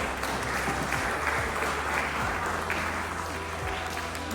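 A group claps together after children answer quiz questions about Armenian letters, a dense, even round of applause that holds steady throughout at close range.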